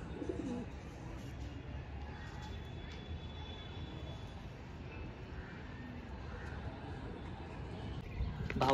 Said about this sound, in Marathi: ते कबूतर चालत आहे म्हणजे ते सुकून गेले पूर्ण.